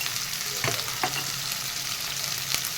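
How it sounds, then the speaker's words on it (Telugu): Mutton frying in a pan with green chillies, masala and turmeric, giving a constant close sizzle with a few sharp utensil scrapes as it is stirred. "మనం ఫ్రై చేసుకున్న మటన్ ఒక 2 నిమిషాలు సిమ్లో పెట్టుకొని ఫ్రై చేసుకున్నామండి"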